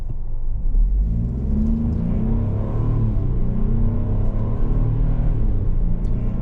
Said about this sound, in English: it does jump off the line quicker in sport mode